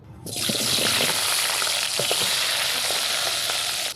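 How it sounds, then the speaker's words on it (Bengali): Potato pieces for a meat curry frying in hot oil in a wok, a loud, steady sizzle that starts abruptly and continues unbroken, close up, with no voices. "আবারও কড়াইতে তেল দিয়েছি এবার মাংসের আলুটা ভাজবো"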